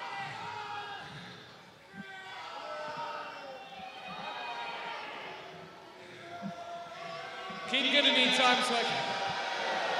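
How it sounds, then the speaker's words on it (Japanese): Capacity arena crowd in Osaka booing Jay White at a New Japan Pro-Wrestling show, a continuous loud roar that swells and grows louder toward the end, with a commentator speaking over it. "Jが抑えようとすればするほどブーイングが大きくなります。"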